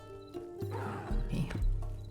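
A horse in the video game Mortal Online 2 gives a short whinny with snorting and hoof clops, fairly faint and close, lasting about two seconds.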